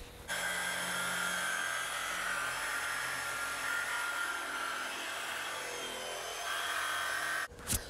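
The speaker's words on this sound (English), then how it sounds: "grab my jigsaw and just give it a nice cut out there" A jigsaw fitted with a scroll blade cuts slowly through a pine 1x4 board while making a corbel. Its steady, loud, dense buzz runs unbroken for about seven seconds and then cuts off.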